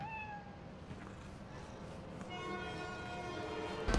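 Meowing of a cat in the video game Spider-Man: Miles Morales, several clear mewing calls standing out over a steady ambient game background with a rising tonal bed near the end.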